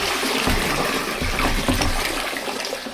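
An aquarium filter is lifted out of a large catfish tank, water splashing and pouring off it in a continuous close, loud gush with trickling bubbles.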